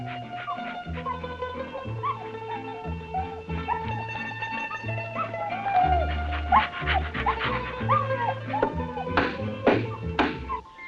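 Several dogs whimpering and yipping, thin high whines and short yelps recurring over about eleven seconds, close and moderately loud with no talk.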